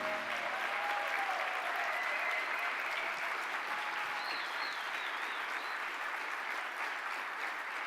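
Sustained applause from a delegate audience at a leaders summit in a hotel ballroom, a dense, even clatter of many hands that keeps going at a steady level throughout, with a few faint whoops above it.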